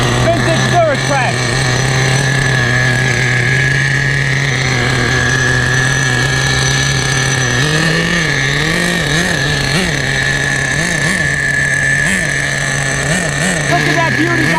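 Vintage Duratrax Nitro Quake RC truck with a small nitro engine holding a steady, buzzy idle, close and loud throughout, with brief blips of throttle near the end; a person talks over it.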